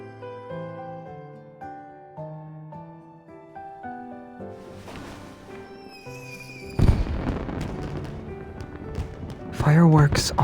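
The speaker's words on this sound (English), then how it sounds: "Fireworks are beautiful" Fireworks in the video game Love and Deepspace burst with loud booms and crackling after a soft melodic music passage, with a second bright crackling burst near the end.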